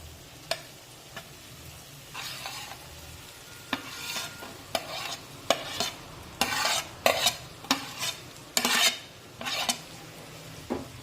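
A spatula stirs and scrapes cooked rice in a frying pan for seasoned rice, giving repeated scraping strokes over a faint sizzle, at close range.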